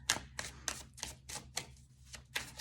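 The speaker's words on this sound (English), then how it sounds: "I'm going to shuffle and pick one more card." A deck of tarot cards is shuffled by hand, giving a series of crisp, sharp snaps and clicks in an uneven rhythm, close and fairly quiet, with no talking.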